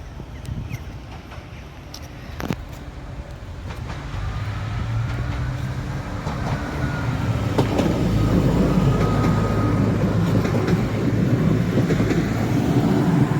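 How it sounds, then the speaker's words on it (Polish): A passenger train rumbles past a level crossing in Wałcz, Poland, the low roar building steadily and staying loud and close, with a faint tonal whine over the rolling noise. "Oto przyjechał pociąg relacji Szczecin Główny, Piła Główna."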